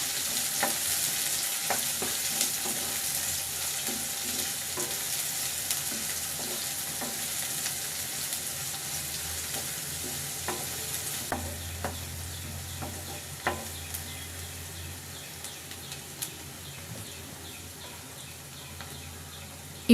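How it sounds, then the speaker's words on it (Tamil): Onion sautéing in a pan for potato peas masala, a soft continuous sizzle and frying hiss with occasional light scrapes of stirring, fairly quiet with no talking. "வெங்காயம் நல்லா வதங்குற வரைக்கும் வதக்கி விட்டுக்கோங்க."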